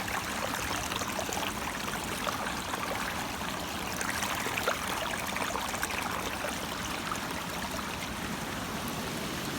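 Creek water pours along a roadside ditch in a steady, hissing wash, even and close throughout, with no voices.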